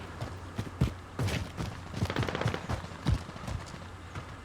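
Distant gunfire rattles in scattered short bursts during a Call of Duty Warzone battle royale match, the shots faint and spread across a few seconds, mixed with footstep-like thuds and game ambience.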